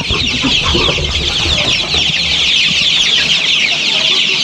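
A dense flock of Arab chickens clucks and squawks continuously and loudly, a busy constant chatter close by with no pauses.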